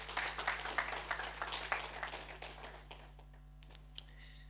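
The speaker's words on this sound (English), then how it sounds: "a round of applause" Applause from a room at a wealth summit, a few seconds of quiet, slightly distant clapping that tapers off into near silence with a couple of last claps.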